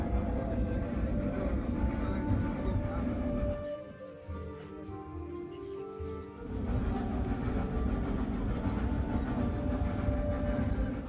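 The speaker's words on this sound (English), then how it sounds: "Going up on a mountain like this, in this old steam train, rattled my nerves a little bit" Old steam train climbing a mountain in Snowdonia, Wales, a steady loud rumble and rattle of the carriage running throughout, easing briefly in the middle before returning at full strength.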